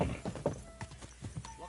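Hooves clip-clop in a quick uneven rhythm from a horse in Kingdom Come Deliverance II, closing with a short whinny, with a voice speaking softly underneath.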